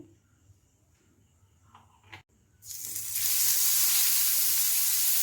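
After a few quiet kitchen clinks, oil hits a hot pan for an omelette and bursts into loud, continuous sizzling that holds steady up close.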